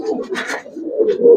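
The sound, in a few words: big-sized Giribaz pigeons cooing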